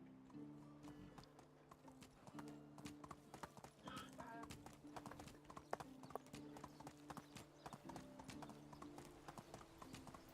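Steady horse hooves clip-clopping at a walking pace in the Medieval Dynasty video game, a continuous rhythmic stream of hoofbeats over a low ambient drone, with no talk.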